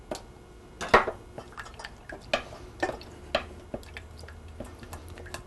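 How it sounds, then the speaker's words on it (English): Cold butter being beaten by hand into a warm mock béarnaise sauce in a small pan: faint, irregular clinks and soft scrapes spaced about half a second apart over a quiet background. "while it's still warm, I'm going to beat in 2 tablespoons of cold butter"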